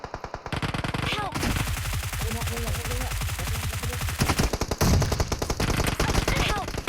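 Rapid automatic gunfire in the mobile shooter PUBG Mobile rattles in dense, fast bursts at close range, continuing almost without pause, with a voice briefly heard among the shots.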